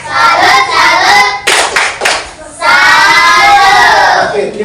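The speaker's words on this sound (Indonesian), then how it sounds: "Kita beri tepuk salut untuk kelompok 3." A classroom of children performs a rhythmic clap chant for a student group, loud close clapping in patterned bursts mixed with their chanted voices.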